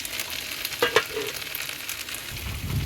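Vegetables sizzle and crackle in a hot pan, a soft continuous frying sound with a low rumble creeping in near the end.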